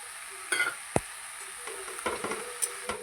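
Ground mustard paste being stirred into pumpkin greens in a pan, a few scraping strokes and soft knocks over a quiet sizzle, with one sharp clack near the start.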